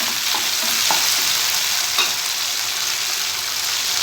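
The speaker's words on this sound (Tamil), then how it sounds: "அதையும் சேர்த்து நல்லா வதக்கிக்கோங்க" Onions and a chopped tomato sauté in a hot pan, giving a constant close, loud sizzle of frying with occasional stirring scrapes and no talking.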